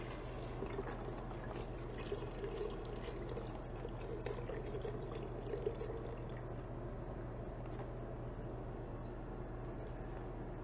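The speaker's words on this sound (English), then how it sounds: "Now I'm going to add the chicken stock." Chicken stock poured into a soup pot, a steady continuous liquid stream at moderate volume over low background hum, with no talking.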